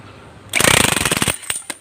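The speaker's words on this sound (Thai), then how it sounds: "มันก็จะใช้บล็อกไฟฟ้านะครับ การถอด" An electric impact wrench hammers at a bolt on a Honda PCX scooter, a loud close burst of rapid rattling blows lasting under a second, followed by a few separate short impacts.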